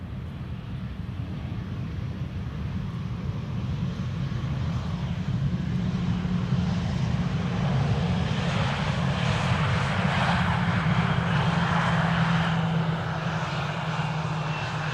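An airliner lands at Amsterdam Schiphol Airport without thrust reversers, a continuous loud jet engine roar with a broad rumbling rush that holds steady and swells slightly, heard from nearby with no voices.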